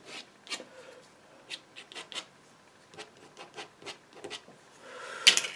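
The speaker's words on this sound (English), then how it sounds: "Let's see if it scrapes out." Close, dry scraping on a tree painting, a series of short rasping strokes in an irregular rhythm, each scrape brief and soft, with a louder scratch at the end and no talking.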